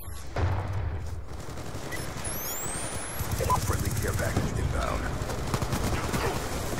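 Shotgun fire in Call of Duty Black Ops 2 on the Nuketown map, split-screen: heavy booming blasts and game explosions run continuously under a busy, loud mix of in-game effects.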